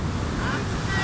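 Rough sea with swelling waves around a boat in bad weather, a brief burst of loud wash and wind rush buffeting the microphone, close and constant.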